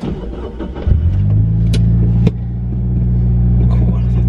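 A Honda Civic EG6 started for the first time in two years, the engine catching and settling into a steady, close rumbling idle that rises slightly, with people talking over it.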